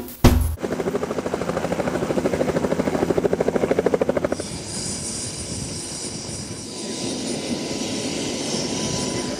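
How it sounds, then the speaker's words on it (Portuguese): A bubble camera helicopter over Maracanã stadium in Rio gives a loud, close, rhythmic rotor chop with steady engine drone, then shifts to a smoother, higher whine as the pulsing fades. "um helicóptero bolha, que é aquele que já vem com a câmera acoplada."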